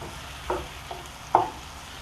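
Brinjal pachadi cooks in a pan under a soft, steady hiss, and a utensil clinks against the pan a few times. The sound is close and quiet, with no speech.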